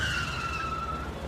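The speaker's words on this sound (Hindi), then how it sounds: "तिराहे पर पहुंचते ही एक गाड़ी से टक्कर होते होते बची।" A car's tires squeal in a long, steady, slightly falling skid at a crowded three-way junction as it nearly collides with a speeding scooter; the screech is loud and close, over a low road rumble.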